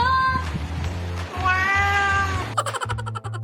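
A pet cat meows in long, drawn-out, wavering tones along with a song, the music running underneath. Its voice ends in a few short stuttering calls.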